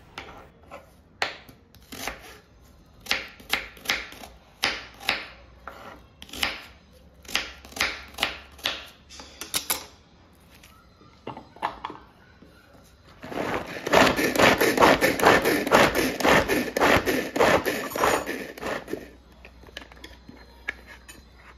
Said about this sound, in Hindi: टमाटर प्याज खीरा हरा धनिया हरी मिर्च को चॉप कर लिया मैंने